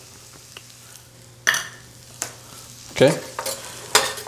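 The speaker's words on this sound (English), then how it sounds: "gonna mix this up. Oh man, the toasting of the spices just smells up the room quickly." Ground cumin, paprika, dried mustard and chipotle chili powder toasting in a pan while being stirred, with a few distinct scraping and sizzling bursts close by and a brief spoken word at the start.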